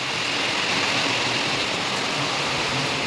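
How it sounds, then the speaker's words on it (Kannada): Heavy monsoon rain pours down outdoors in a hilly area, a steady, dense broadband hiss that stays loud and unbroken throughout with no voices. "ಇಲ್ಲಿ ನೋಡ್ತಿದ್ದೀರಾ ಸಿಕ್ಕಾಪಟ್ಟಿ ಮಳೆ"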